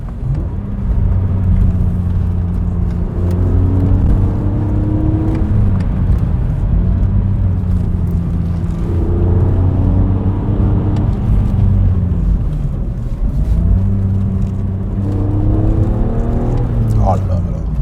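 BMW 330i E46 Touring petrol engine pulling hard on small country roads, revs rising and falling through repeated gear changes, steady and close throughout, with speech over the engine.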